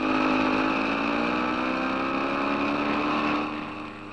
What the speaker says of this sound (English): Two 600cc engines provide the power and the lift.